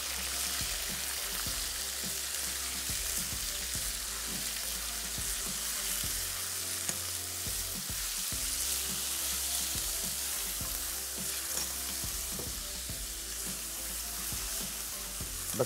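Chicken with garlic sizzles and fries steadily in a hot pan, a loud continuous crackle with occasional stirring scrapes, no voices over it.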